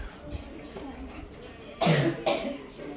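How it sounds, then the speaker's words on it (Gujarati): Someone at home coughing twice, two loud harsh bursts close by near the end, with faint speech and household sounds before them. "તો હમણાં કોણ ખાંસી ખાતું હતું?"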